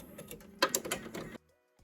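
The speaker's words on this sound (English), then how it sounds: "We're ready to start the machine again. It's gonna create another stitch to hold the top and bottom fabric together" An embroidery machine stitches top and bottom fabric together on a mask, a quick run of rapid mechanical needle clatter that stops abruptly, leaving near silence before a faint knock.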